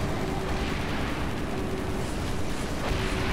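A Scarab walker blows up in Halo 3, a sustained, heavy roar of explosions and rumbling debris that stays loud and steady throughout, with no clear breaks.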